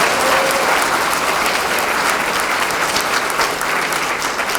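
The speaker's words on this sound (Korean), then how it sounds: "다시 한번 큰 박수 보내주시겠습니다" Steady, loud applause from an audience at a Democratic Party local election candidates' meeting in Busan, a dense wash of clapping that holds evenly throughout.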